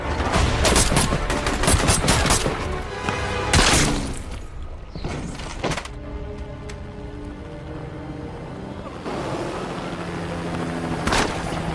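Heavy gunfire in an action film rescue scene, with bursts of shots and a helicopter taking hits; loud, dense volleys with sharp cracks, easing into a quieter rumbling stretch before another burst near the end.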